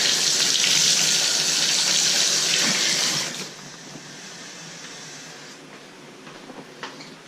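Running water gushes loudly into a bathtub as a dirty part removed from a root-clogged toilet line is rinsed, then the flow cuts off abruptly after about three seconds, leaving quieter dripping and faint handling noises.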